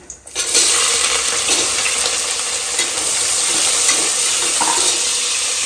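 A sudden loud sizzle as onions hit hot oil for chicken biryani, then a continuous crackling fry that stays steady and close.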